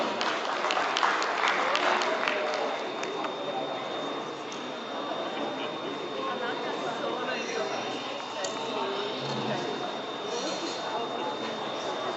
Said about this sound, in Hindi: तो एक बार जोरदार तालियों से स्वागत कीजिए डॉक्टर दिलीप मोदी जी का।